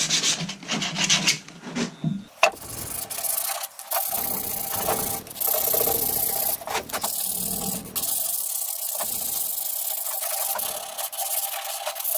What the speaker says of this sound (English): Just gonna sand off these edges a little bit, rub them down, so to speak.